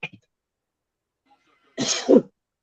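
A single harsh cough, close and loud, follows a moment of near silence after a brief voice sound.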